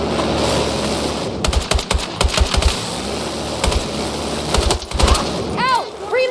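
Battlefield 6 video-game gunfire crackles in rapid bursts and scattered single shots over steady background rumble, fairly close, with short pauses between volleys.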